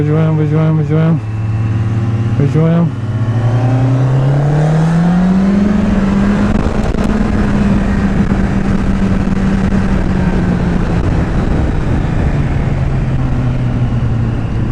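Motorcycle engine lapping a karting track, loud and close throughout, revving through gear changes with a rising, sustained drone as the bike accelerates along the circuit.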